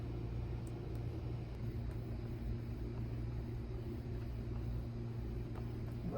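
Motorcycle being ridden, a steady low engine drone and road rumble running continuously at moderate level with no pauses or talk.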